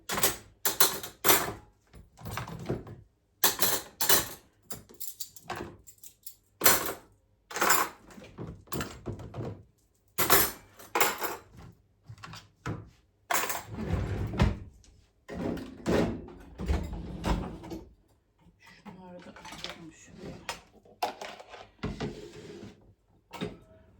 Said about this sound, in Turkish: Bu çekmecede ki gene bu büyük kepçeleri mepçeleri ayırmam lazım ki ağırlık yapıyor çekmeceye.